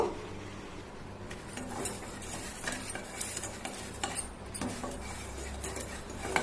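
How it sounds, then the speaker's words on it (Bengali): Sugar caramel is stirred in a pan, a spoon tapping and scraping against the metal in irregular clicks over a low, steady background hum, close and quiet. "নাড়তে নাড়তে আস্তে আস্তে ক্যারামেলটা তৈরি করতে হবে, যেন নিচে লেগে না যায়"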